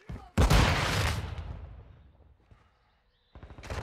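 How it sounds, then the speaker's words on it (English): A flash grenade bursts in Call of Duty Modern Warfare II with a sharp, loud bang that rolls into a decaying rumble, followed about two seconds later by another sudden crack. "Throwing flash grenade!"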